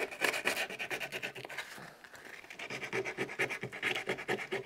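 Sandpaper rubbing over a glue-repaired wood carving, a rapid rhythmic back-and-forth scratching in quick strokes, close and fairly loud, pausing briefly midway before resuming.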